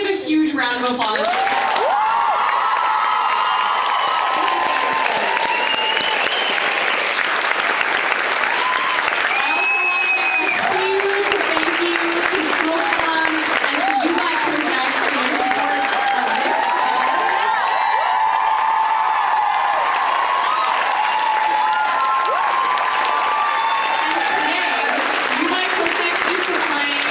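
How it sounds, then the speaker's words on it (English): A convention panel audience at Fan Expo breaks into loud, sustained applause with whoops and cheers, a roaring crowd wash that stays full for the whole stretch while voices call out and talk over it. "round of applause."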